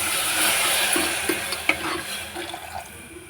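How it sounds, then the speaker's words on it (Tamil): Water pours and splashes into a pressure cooker for a few seconds, a close, bubbling trickle that tapers off toward the end. "இப்போது இதில் வந்து ஒரு 3 கப் தண்ணி ஊற்றிக்கலாம்."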